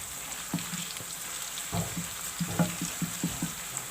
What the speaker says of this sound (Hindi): उसमें मैंने प्याज शामिल करके अब मैं इसको फ्राई कर रही हूँ।